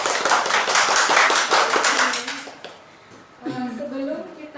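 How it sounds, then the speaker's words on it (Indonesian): An audience applauds two speakers at an online talk on well-being during the Covid-19 pandemic, with brisk clapping that fades after a couple of seconds before a voice begins speaking. "Di ruangan ini boleh tepukannya buat dua narasumber yang cantik ini"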